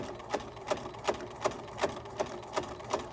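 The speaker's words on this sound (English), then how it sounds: "And now we'll continue to sew forward all the way to the end of side 2." A sewing machine stitching the side seam of a fabric face mask, a steady rhythmic thumping of about nine even needle strokes at a moderate pace, close and fairly quiet.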